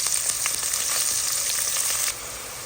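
Garlic, onion and ginger sautéing in a pan while fish fries, a loud steady hiss of hot oil filling the scene with faint stirring knocks, the sizzle dropping slightly in level near the end.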